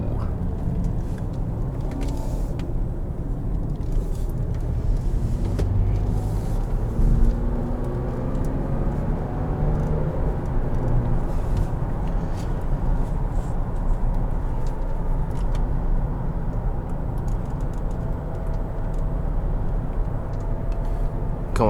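Cabin of a 2017 Cadillac XT5 Luxury cruising on the highway, with a steady low road and engine rumble throughout and a faint, smooth wash of tire and wind noise at a constant level.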